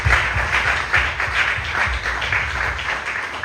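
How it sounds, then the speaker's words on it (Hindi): A church congregation at a Hindi-language service claps together in a steady, rhythmic beat for the people who serve, the even pulses sustained and fairly close throughout. "उनके लिए ताली बजाएं जो लोग करते हैं।"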